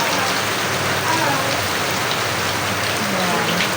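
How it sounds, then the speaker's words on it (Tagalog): Steady rain pours down continuously with a dense, even hiss of drops on surfaces during a downpour heavy enough to start flooding, loud and unbroken for the whole stretch with no talking. "Konting ulan pa lang yan, ha."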